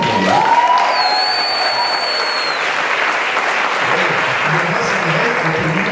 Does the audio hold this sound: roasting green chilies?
no